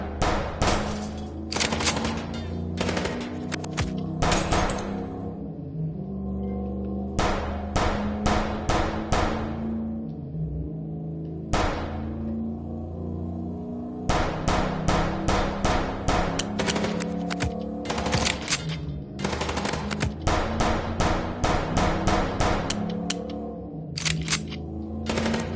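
Gunfire from a moving car, sounding as repeated loud bursts of automatic shots in quick clusters over a low engine rumble, steady and close throughout, with no talking.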